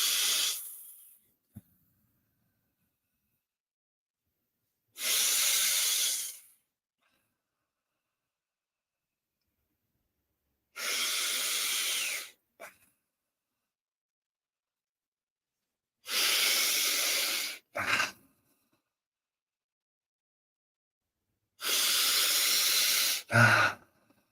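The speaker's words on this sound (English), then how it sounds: "breathe in through your nose and out through your mouth. Soft, sighing breath." Four soft, sighing breaths, each drawn in through the nose and let out through the mouth. The airy hiss of each breath lasts about a second and a half, separated by long silent pauses. The breaths are close and gentle, with no speech.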